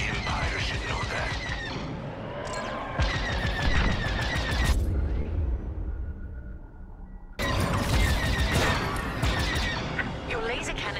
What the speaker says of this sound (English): Your laser cannons need to recharge.